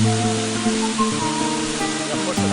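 A steep waterfall in the Atlantic Forest plunges into a deep pool with a loud, constant rushing roar, heard alongside a background music bed and little speech.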